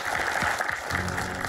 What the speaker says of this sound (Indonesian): Tepuk tangan dulu dong, ibu-ibu